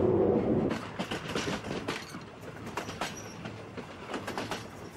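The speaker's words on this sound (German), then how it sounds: "Der Zug taucht ein ins Weichbild der Millionenmetropole Bangkok." Luxury express train, an Orient Express service running from Singapore, rolling on rails into Bangkok, heard from aboard as a steady low rumble with faint rhythmic clatter. A brief louder rush comes at the start.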